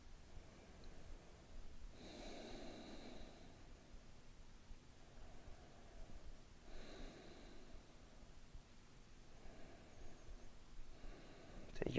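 Slow, deep breaths during a yoga pose, soft nasal inhales and exhales repeating every few seconds, quiet and close over faint background hiss.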